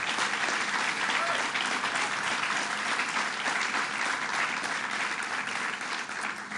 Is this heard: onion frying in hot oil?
no